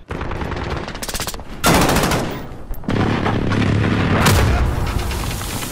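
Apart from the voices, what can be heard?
enemy precision airstrike explosions in Modern Warfare video game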